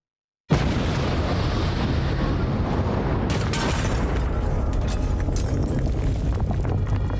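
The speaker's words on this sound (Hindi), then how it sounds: "अफगानिस्तान में फिर हुआ धमाका।" A sudden massive bomb blast erupts after brief silence, followed by a sustained loud roaring rumble with crackling debris, in Kandahar, Afghanistan.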